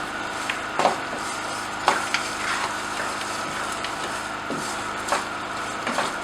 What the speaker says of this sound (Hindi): और साथ में ही मैं ड्राई फ्रूट मिक्स कर दूंगी। और अब इसे मज़ीद 5 मिनट तक भूनूंगी।